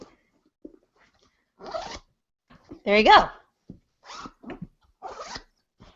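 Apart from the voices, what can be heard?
boot zipper zipped up and down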